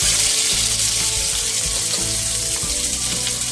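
Onions hit hot oil in a wok for a chicken dish, a loud continuous hiss and crackle filling the whole stretch, close by with no talking.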